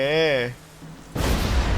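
A voice trails off, a brief quiet gap, then a sudden loud blast bursts out and rumbles on, like a video game explosion.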